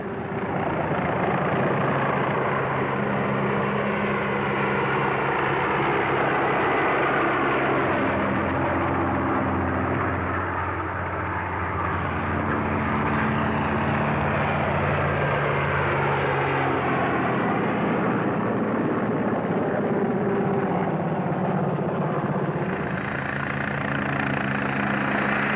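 A helicopter display team manoeuvring at the Farnborough air show: continuous loud rotor and engine roar with a broad rushing wash, the pitch and intensity rising and falling as the machines turn and pass.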